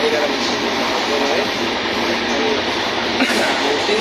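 Long-distance passenger train travelling at night, a loud continuous rumbling roar of wheels and carriage with a brief clatter partway through, heard from inside.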